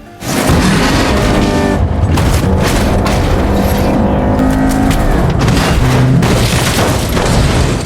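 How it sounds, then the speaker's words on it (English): A car brakes, then accelerates hard and rams the back of another vehicle: loud, continuous engine roar with booming impacts and surging revving, dense and close throughout. "Mason slams on the brakes, suddenly slowing down to swap positions, and then floors the gas to ram the back of Workman's vehicle."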